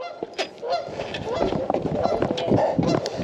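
Two angry geese honk repeatedly at close range during a fishing outing, harsh overlapping calls rising in intensity across the few seconds, with flapping and scuffling underneath.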